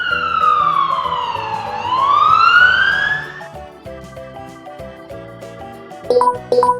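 A toy police car siren wails loudly in rising and falling sweeps, then gives way to a cheerful electronic tune with beeping tones at the end.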